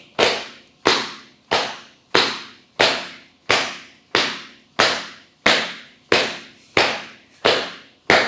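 Hands bang hard on the floor during a somatic anger-release exercise, thirteen sharp, loud slaps landing in a steady rhythm about every two-thirds of a second, each ringing out briefly before the next, with no talking.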